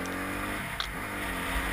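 A Honda CRF250R dirt bike is ridden with a steady, buzzing engine drone that holds an even pitch and loudness throughout the short stretch.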